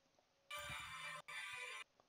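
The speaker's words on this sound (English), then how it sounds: "That's Element's phone." Phone ringtone belonging to a player during a four-versus-two StarCraft 2 gaming session: a bright electronic ring in two loud bursts, the second after a brief gap, close and clear with almost no talk.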